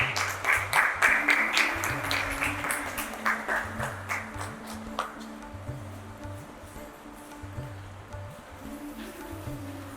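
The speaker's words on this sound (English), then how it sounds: "A big round of applause for the girls." Applause for the girls at a singing competition prize ceremony: a crowd claps strongly at first, then fades to scattered claps over a steady pulsing musical beat.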